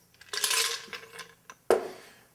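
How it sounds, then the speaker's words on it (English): Cocktail poured over ice in a rocks glass: a rattling, clinking pour of liquid onto ice for about a second, then a sharp clink of ice settling, close and fairly quiet with no talk. "And then pour that over the ice."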